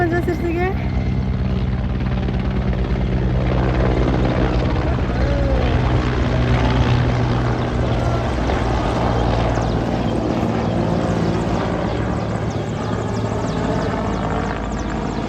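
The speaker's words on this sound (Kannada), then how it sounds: "ಹೆಲಿಕಾಪ್ಟರ್ ನೋಡ್ತಾ ಇದ್ವಿ" A helicopter roars overhead with a loud continuous rotor and engine drone that holds steady throughout, while people talk faintly beneath it outdoors.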